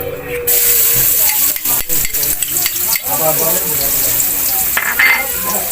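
Garlic fries in a pan with a loud, steady sizzle and hiss, broken by stirring scrapes and clatter close to the microphone.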